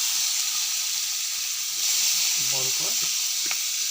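Onions frying in oil with salt, turmeric and mixed spices give a continuous loud sizzle, while a voice briefly murmurs partway through and a light clink follows.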